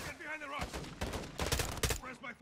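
Gunfire in the Call of Duty: Modern Warfare 2 campaign mission Cartel Protection, with shots popping among other game sounds and a voice talking over most of it, ending in a loud burst.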